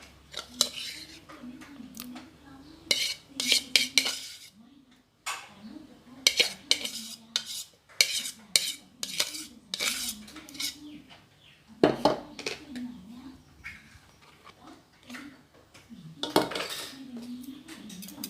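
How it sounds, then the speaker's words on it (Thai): A hand whisk beats softened salted butter in a bowl for strawberry-filled shortbread, bursts of rapid metallic clinking and scraping against the bowl separated by pauses, with someone talking softly between strokes. "วันนี้เราจะไม่ใช้เครื่องนะคะเราจะใช้ตะก้อมือตี"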